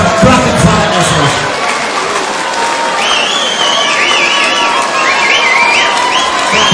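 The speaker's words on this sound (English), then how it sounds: "give them a round of applause for a cracking time this week" An audience at a boxing event applauds and cheers loudly, with whoops and shouting voices mixed into dense clapping, and crowd chatter throughout.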